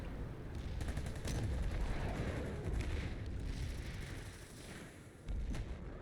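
Tank gunfire in the PlanetSide 2 video game from tanks on a mountainside shooting down onto a point, heavy booming shots and explosions amid a dense, continuous rumble of battle, at mid distance.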